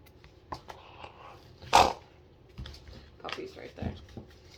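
Puppies giving scattered short yaps and low growls, with one louder bark in the middle, fairly close against a quiet indoor background.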